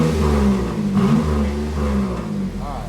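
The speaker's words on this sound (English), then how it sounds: "It's a custom exhaust." Car engine with a custom dual exhaust, the pipes splitting to two mufflers, revs up loud and close in a steady deep rumble that rises and falls through the whole stretch.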